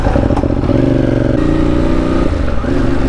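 A 50cc motorbike on a Paris street revs up loud and close, its buzzing engine climbing in pitch through the gears with a brief clatter.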